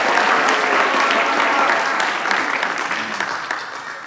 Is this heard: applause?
yes